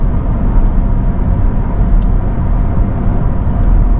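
Car cruising at around 70 km/h in fifth gear on an 80 km/h road, a steady loud in-cabin engine and road drone that holds evenly throughout without pause.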